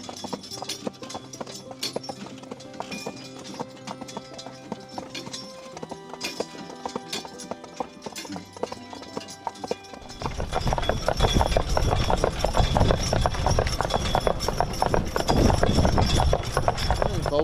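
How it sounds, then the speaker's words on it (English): A pair of Percheron and Belgian draft horse geldings clip-clop steadily, the hoofbeats close and continuous, growing louder and denser partway through. "I want to show you a nice pair of geldings"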